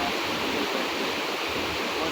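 Rushing river water at Hogenakkal falls in high flood, a loud dense unbroken roar of torrent noise that fills the whole short stretch.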